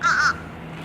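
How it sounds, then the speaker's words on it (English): A crow gives one loud, close, harsh caw, a short laughing-sounding call that cuts off quickly into quiet outdoor background. "Birds are laughing at us."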